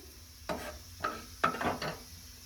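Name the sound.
dry fruits (almonds) frying in a pan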